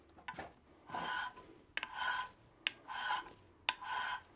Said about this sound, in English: So I'm going to just file these really quickly.